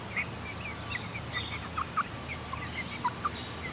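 Young chickens a few weeks old, kept in a chicken ark, give soft, scattered clucks and peeps close by over a steady background hum.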